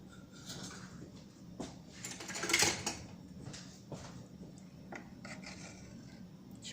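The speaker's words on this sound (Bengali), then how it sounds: "পরে আমি উঠিয়ে নিচ্ছি লেবু বিচিটা চামচ দিয়ে" A metal spoon scraping and scooping lemon seeds out of a pot of Thai chicken noodle soup, with soft repeated rubbing and clinking contacts and a slightly louder scrape in the middle.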